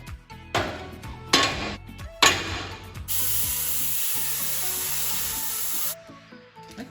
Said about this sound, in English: So here I am cutting through this steel, doing a terrible job.